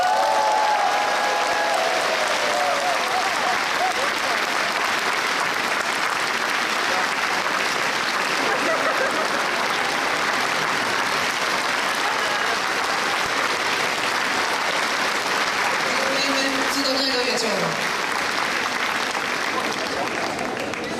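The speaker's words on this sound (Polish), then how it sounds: "I teraz będą na pewno ogromne brawa." Sustained audience applause at a celebrity tennis tournament in Świnoujście, a dense, steady wash of clapping that runs evenly throughout with a few faint voices and tones mixed in.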